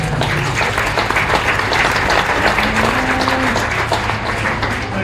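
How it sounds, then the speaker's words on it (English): Crowd applause at a county fair market beef show, steady sustained clapping from many hands in an arena, continuous and fairly full without a break, with faint background tones beneath. "give those kids a special round of applause for the way they fed"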